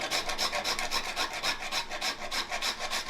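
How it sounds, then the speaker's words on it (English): Fresh nutmeg is grated on a microplane, a close, steady rasping scrape repeated in quick rhythmic strokes, about a dozen passes in a few seconds. "you can see it just grates up on the microplane"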